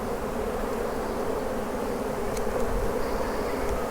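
Honeybees swarm and buzz around an open beehive during a hive inspection, a steady dense drone that fills the whole stretch close to the listener with no talking.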